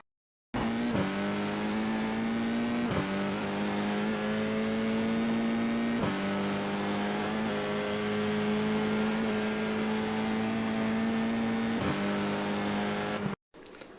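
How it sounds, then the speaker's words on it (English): Race car engine held at full throttle on Sonoma Raceway in the iRacing simulator, a loud steady drone with a few brief gear-shift dips and no talk over it. "from here you're flat on the gas all the way until the next braking zone up ahead"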